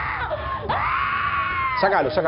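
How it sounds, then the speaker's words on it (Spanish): Woman screaming in a played-back recording, long anguished high-pitched wails that rise and fall, heard through narrow, band-limited playback. "Acá están los gritos de la mujer."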